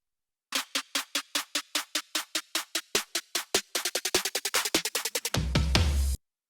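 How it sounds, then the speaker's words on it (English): A drum fill in a future bass track: a rapid, steady run of crisp snare-like hits that speeds into a denser roll, then ends on a sustained, bass-heavy crash. "Then we have another drum fill here."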